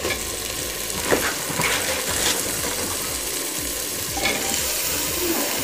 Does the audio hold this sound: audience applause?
no